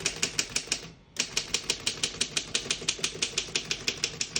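Rapid, even key strikes from a 1923 Underwood No.5 antique desktop typewriter, close and crisp, with a brief pause near the start before the steady clacking resumes.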